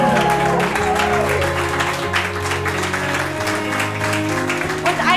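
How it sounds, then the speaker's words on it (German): Steady audience applause for the cellist at a benefit concert, continuous clapping blended with lingering instrumental tones and murmured voices. "Natürlich noch mal einen Riesenapplaus für den Daniel"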